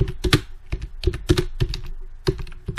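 Irregular bursts of clicks and taps from a computer keyboard as a short test sentence is typed, close and fairly loud, with no talking.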